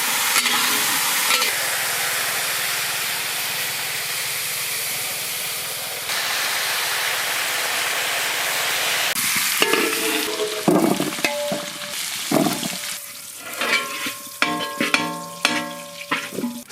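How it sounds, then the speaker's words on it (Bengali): Potatoes frying in mustard oil in a village kitchen, a loud continuous hissing sizzle that later gives way to clattering stirs and scraping in the pan, with no talking. "আলু ভেজে নেব।"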